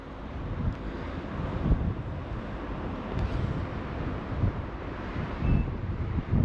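Strong wind gusts roar and buffet across an exposed outdoor spot, a continuous broadband rush with repeated louder surges, close and loud with no speech.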